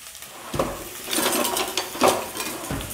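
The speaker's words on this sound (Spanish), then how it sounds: "Con una cuchara podés ir revolviendo, siempre a fuego fuerte. Queremos que esto se dore un poquito." Vegetables for a vegan stew frying in a pot over high heat and stirred with a spoon, giving a steady sizzle with intermittent scraping and clinking of the spoon against the pot.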